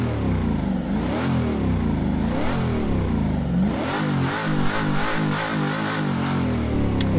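A legendary 1960s Can-Am race car engine in the video game Assetto Corsa, on the Mulsanne Straight, revs hard and loud. Its pitch rises and falls in repeated surges, climbing through the gears toward the end.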